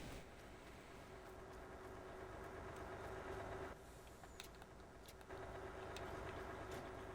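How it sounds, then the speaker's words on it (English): A train in the Farming Simulator 22 video game rumbles steadily with a mechanical engine drone and faint clanks, quiet and continuous with a brief dip partway, no talking. "There's the train."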